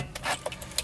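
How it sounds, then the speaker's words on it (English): Car keys jangle in an Acura RSX ignition as they are turned to the first position, a few light metallic clinks and rattles, close and without talk. "we're just gonna take our keys and turn it to the first position"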